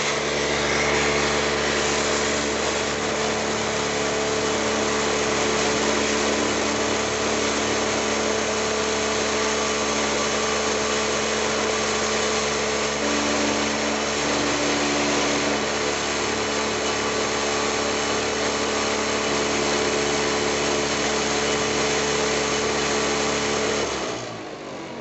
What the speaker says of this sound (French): comme les ventilos, ils vibrent beaucoup, ça fait bouger la machine